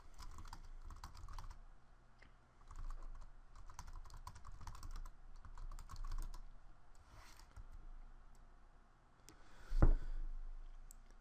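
Keys clatter on a computer keyboard while someone types text between commands in a LaTeX document, a soft steady run of taps with short pauses and a sharper click near the end.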